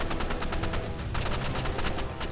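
Rapid gunfire from a Roblox video game rattles in a fast, steady burst of close, loud shots with a short gap before the firing resumes.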